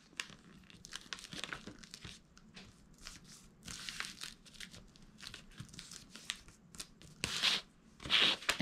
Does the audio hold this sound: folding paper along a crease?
yes